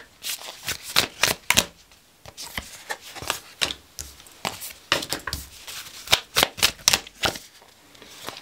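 Tarot cards are shuffled by hand in quick, crisp riffles and taps, a close, fairly soft series of papery bursts with short pauses between.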